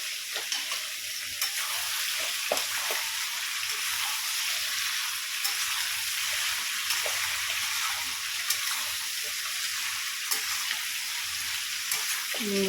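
Chopped Malabar spinach is stir-fried in fish oil in a pan, giving a steady close sizzle and hiss with occasional sharp clicks from stirring.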